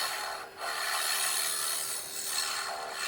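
A round carbide tool scrapes and rubs against spinning wood on a lathe, sculpting a wooden garlic keeper in a steady, hissing rasp with brief dips as the cut lightens.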